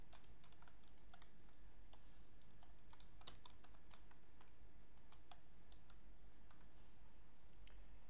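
Quiet, irregular clicking of keys being typed on a computer keyboard, a scattered run of soft taps close by with a faint background hum.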